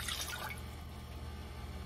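Water from a cup pours into a cooking pot on the stove as grits are prepared, a brief steady splashing rush that begins bright and settles into a continuous lower stream, close and fairly loud.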